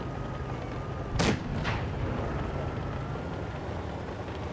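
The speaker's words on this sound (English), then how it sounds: "My teammates are starting to trade shots." Tank cannon shots traded in a tank battle video game: two sharp booming blasts in quick succession, moderately distant, over a steady background rumble.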